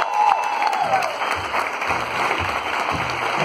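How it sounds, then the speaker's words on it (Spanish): A crowd at a farewell event applauds, sustained clapping filling the space with some cheering mixed in, loud and continuous for several seconds, with voices faintly under it. "¡Un aplauso para ti!"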